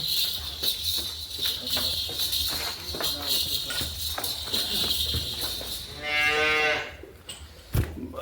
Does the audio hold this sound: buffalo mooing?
yes